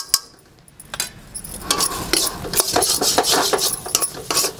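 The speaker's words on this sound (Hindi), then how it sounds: "आप इसको लगातार चलाएंगे इस मटर के पीठी को, और आंच थोड़ा सा कम कर देंगे।" A spoon scrapes and clinks against a pan while mashed green pea paste for UP-style matar nimona is stirred and roasted over lowered heat. It starts quiet, then turns into continuous close scraping with light metallic taps.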